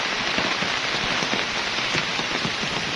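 Rain falling steadily on a banana plantation, a dense, even patter of drops on leaves and ground, close and continuous with no talk.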